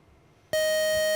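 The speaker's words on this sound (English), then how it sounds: "And that's our buzzer." A quiz show buzzer sounds abruptly and loudly, a sustained electronic tone that holds steady after a quiet moment, heard alone without talk.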